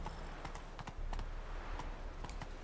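Hoofbeats of Geralt's horse Roach in The Witcher 3 at a port, a steady clip-clop of hooves at a trot, moderately close with light background ambience and no talking.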